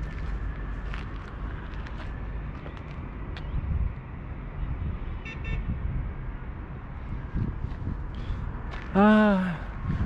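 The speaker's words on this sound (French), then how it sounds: "le doux son des klaxons en Jordanie." A car horn blares once, loud and close, near the end of a stretch of steady Amman street traffic in Jordan. Low rumbling road noise and scattered background sounds run underneath.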